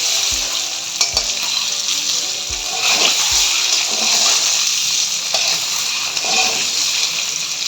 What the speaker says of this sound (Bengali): ডিমটাকে এখন আমি হালকা করে ভেজে নিচ্ছি।